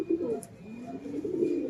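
A pigeon gives a soft, low coo up close, a brief rolling call that rises twice, heard alone over a quiet background.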